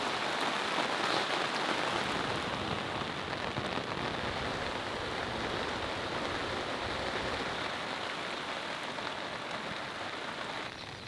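Steady rain pours on surfaces at a campsite on Bukit Cemara in Bali, a dense continuous hiss of drops at an even loudness throughout, with no voices.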